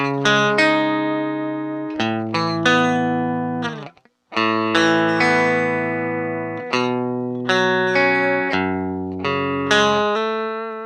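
Clean electric guitar through a Marshall amp with a chorus effect, played as ringing picked chords with a shimmering, compressed tone. Strums come every second or so, with a brief gap near the middle, loud and close.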